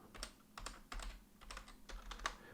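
Keystrokes on a computer keyboard come in quick uneven bursts of clicks with short pauses between them, close and fairly quiet, with no talking.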